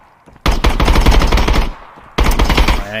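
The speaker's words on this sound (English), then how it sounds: "Shot all the bullets out of my mag, so I have to rechamber it." Video game gunfire empties a magazine in a loud, rapid automatic burst, pauses briefly, then fires again in a second burst.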